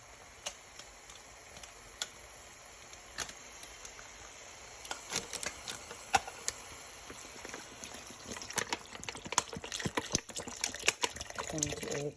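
Bottled Ozark spring water is poured into a pot of Korean spicy tofu soup, a faint trickle with scattered small splashes and clicks that grow busier toward the end.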